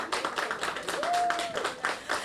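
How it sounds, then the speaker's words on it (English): Brief round of clapping from an audience at a secondary school band and choir music video launch, a short burst of hand claps with a sung or hummed tone briefly audible in the middle. "A round of applause once again, students and everyone involved in this production."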